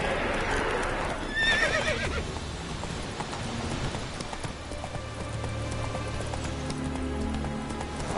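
Roach, a horse in The Witcher 3, gives a bright whinny early on over steady hoof clip-clops and a soft rain-like hiss, with the rhythmic hoofbeats carrying on through the rest.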